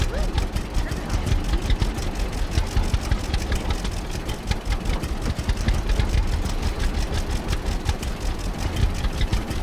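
Tractor gasoline engine in the Farmer's Dynasty farming video game runs steadily throughout, a rhythmic chugging idle with repeated knocking pulses, fairly loud and continuous, with a voice talking over it.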